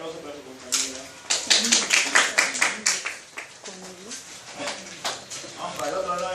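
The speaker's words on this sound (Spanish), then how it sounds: "Un aplauso para su compañera." Students in a mycology classroom applaud a classmate, a burst of clapping that swells and then tapers, with voices mixed in.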